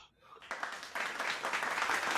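Applause sound effect on a radio show swells in after a brief quiet moment, dense clapping building steadily louder and continuing to the end.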